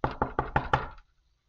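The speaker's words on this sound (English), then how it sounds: "Knocking from within." Five evenly spaced knocks on a door, sharp and close, struck in quick steady rhythm before stopping into silence.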